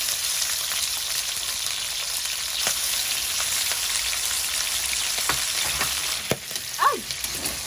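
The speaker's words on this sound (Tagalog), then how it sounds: "Sasangkot sa muna ang pork." Pork sizzles and sautés in a hot pan for pork binagoongan, a loud continuous frying hiss with scattered crackles and a few brief spatula scrapes toward the end.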